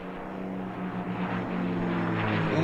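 Two P-51D Mustang propeller fighters fly past at an airshow, their piston engines droning loud and steady with a rising growl as they approach.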